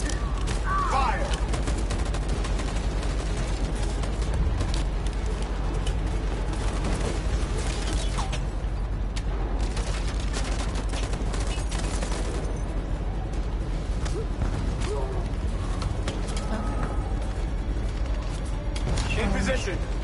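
Continuous battle gunfire in the video game Detroit: Become Human, rapid shots and distant booms layered over a constant rumble for the whole stretch, with voices talking throughout.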